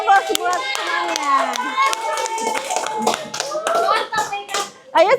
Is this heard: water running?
no